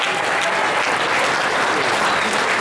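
An audience at a caucus meeting gives a full, dense round of applause for the chair. The clapping is loud and steady and runs without a break.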